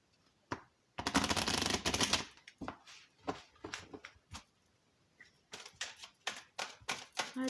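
Tarot cards are shuffled for a daily reading: a dense riffling burst followed by a scattered series of soft card slaps and flicks, close and fairly quiet, with no talking.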